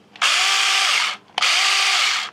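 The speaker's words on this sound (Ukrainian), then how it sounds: "Так, зможемо провірити, чи буде працювати наша пилка." A repaired cordless electric saw, fitted with a replaced battery, runs in two loud, high-pitched bursts of about a second each, with a short pause between them.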